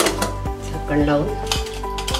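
Metal clanks and clinks as a lid is set onto a steamer holding ukadiche modak, a few sharp knocks and scrapes close up over a steady low hum.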